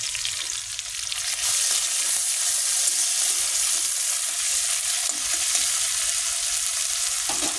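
Ground onion paste with salt frying in a pan over panch phoron and dried red chillies, a continuous close hiss of sizzling oil broken by occasional scraping stirs, with no talk.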